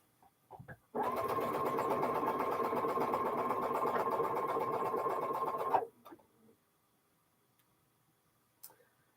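A sewing machine stitches a quilt seam on Elizabeth Hartman blocks in one steady run of about five seconds, a close, loud, even whirring hum with rapid ticking, then it stops and a few faint clicks follow.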